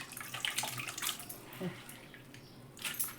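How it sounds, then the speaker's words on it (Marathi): Peeled moong beans are washed in water to loosen their husks, giving soft splashing, sloshing and dripping sounds close by. "पाणी घालून घालून नुसतं काढत राहायचं"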